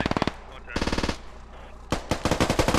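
Rapid automatic gunfire rattles in bursts in a military shooter video game, three loud close volleys separated by brief pauses.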